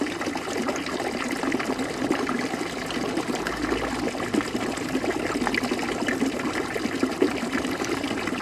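Water from a toad fountain splashes and trickles outdoors in Monheim, a continuous close burble with small irregular splashes and no talking.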